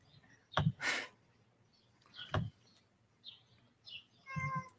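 A cat meows several times close by, short plaintive cries between soft rustles and breathy noises, ending with a longer drawn-out meow.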